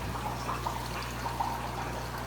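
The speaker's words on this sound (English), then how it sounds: "Water is flowing out, and it's going down the drain system" Water flowing out of an aquarium tank overflow and down into a drain, a steady close trickling pour with a low hum underneath.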